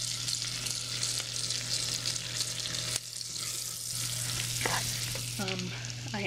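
Onion frying in a butter-lined pan gives a steady, dense sizzle that holds evenly throughout, with a low hum beneath and a brief voice near the end.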